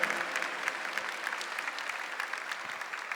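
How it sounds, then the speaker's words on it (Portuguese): Audience at a Catholic morning gathering with a priest applauds steadily, a dense, even patter of many hands clapping throughout with no talk over it. "Queria que você aplaudisse quem está aí do seu lado"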